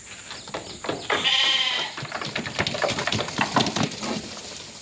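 Sheep bleat on a sheep and goat farm, several overlapping calls close by with a long, wavering bleat near the start, then more scattered bleats over a low farmyard background.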